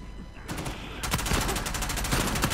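Rapid bursts of gunfire in the multiplayer game Uncharted 4 crackle in quick succession, loud and sustained, with brief gaps between volleys.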